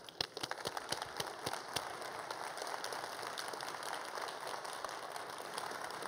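An audience at a special event applauds a guest, Dr. Ingrid Faro, onto the stage. The clapping is a few sharp, separate claps at first, then a dense, even patter from a crowd that stays fairly quiet and distant.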